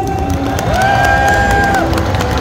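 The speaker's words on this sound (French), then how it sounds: "Vous pouvez les applaudir bien fort s'il vous plaît." Crowd cheering and applauding Star Wars clone trooper cosplayers in handmade foam and 3D-printed armour on a Comic Con France catwalk, a steady loud roar of cheers with a long whistle-like tone held over it.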